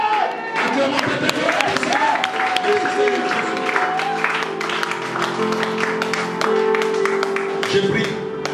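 A church congregation applauding and cheering during a francophone worship service in Montreal, dense sustained clapping from a crowd with scattered voices and what sounds like music running underneath.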